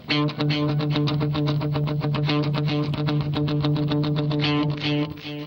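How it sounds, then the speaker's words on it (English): Electric guitar run through a Line 6 POD 2.0 with a loud delay and big reverb, 80s style: a steady, driving stream of rhythmic picked notes with repeating echoes, loud and continuous throughout without any voice. "It's quite a loud delay."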